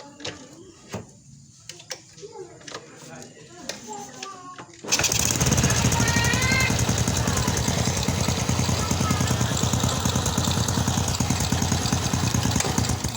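An old Suzuki Supra motorcycle engine, just repaired for an oil leak at the magneto cover, starts abruptly after some tool clatter and people talking, then runs loud and close with a rapid, steady idle chatter.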